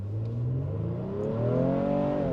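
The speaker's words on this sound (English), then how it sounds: "Yes, that V6 sounds meaty, eh?" A Honda Pilot Black Edition midsize SUV's V6 engine pulls hard from a brake-torque launch, its deep, steady drone rising in pitch as it accelerates, loud and close with no talking.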